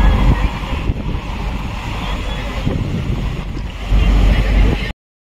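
A ship cutting through sea water at night on the passenger vessel MV Kavaratti sailing from Kochi to Lakshadweep: steady loud rushing water and wind noise, continuous throughout with a surge near the end.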